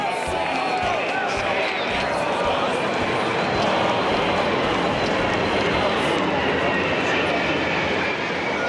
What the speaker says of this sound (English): The crowd was suddenly silenced by the world's biggest plane, the AN-225, making its way slowly across the city.